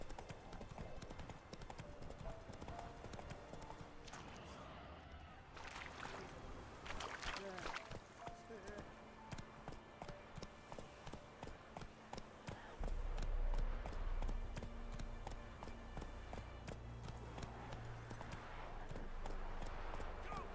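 Rhythmic hoofbeats of a horse galloping in The Witcher video game, steady and fairly close, with in-game music and ambient effects layered underneath and a voice speaking over part of it.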